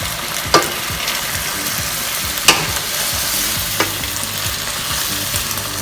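Vegetables are mixed into chicken adobo frying in a pan, a loud continuous sizzle broken by three sharp scraping stirs at uneven intervals, with no talking.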